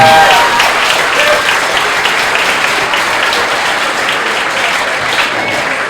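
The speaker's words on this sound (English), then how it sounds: "if you can give a rousing round of applause for all the wonderful toasts that we have here" A wedding reception crowd gives a sustained, loud round of applause after the toasts, with dense clapping filling the room and holding steady throughout.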